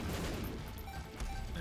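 A rapid cluster of explosions and blasts in a video game, dense and loud throughout with a heavier burst near the end and no talking.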